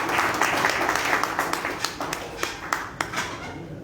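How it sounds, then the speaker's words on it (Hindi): Audience clapping welcomes an MLA at a foundation-stone ceremony for a statue in Ambala, with a steady wash of applause and sharp individual claps standing out near and close. "तालियों के साथ जोरदार स्वागत।"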